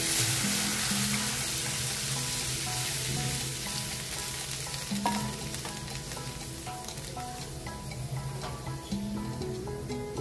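Strained tamarind water with salt goes into an onion-tomato mixture sizzling in a pan, giving a loud, continuous frying hiss and bubbling with faint utensil clinks, and no voices.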